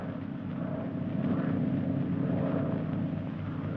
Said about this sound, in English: That plane is to pick you up.